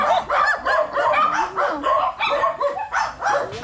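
Several dogs bark and yip in quick, overlapping bursts, loud and close, with some whimpering mixed in.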